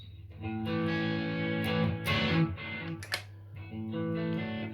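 Electric guitar chords through a Valeton GP-200 multi-effects reverb, ringing out with a spacious tail, sustained notes blooming and decaying, a few sharp picked accents, played steadily without talk.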